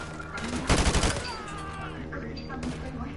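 Bursts of rapid AK rifle gunfire in a video game, a dense loud volley in the middle with lighter shots around it, while a voice talks over the game audio.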